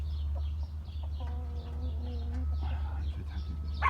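Several chickens cluck and squawk in short, uneven bursts over a low steady hum, fairly close by.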